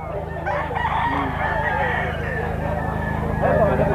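A bullstag rooster crowing, a long drawn-out call held over steady background noise, close and loud, with people talking nearby.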